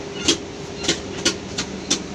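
Rhythmic clunks of train wheels passing over rail joints inside a train at Amritsar station, five evenly spaced knocks over a steady low interior hum.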